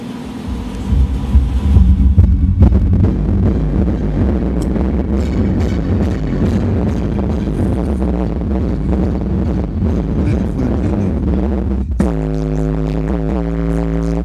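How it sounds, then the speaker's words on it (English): A song playing through Memphis 12-inch subwoofers driven by a Sony Bluetooth car stereo, heavy booming bass with a dense mix, continuous and loud throughout, with no talk. "Let's actually let you hear what these speakers sound like."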